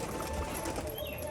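Rajshahi pigeons coo softly at a home loft, close by, over a busy, steady background hum, with no talk.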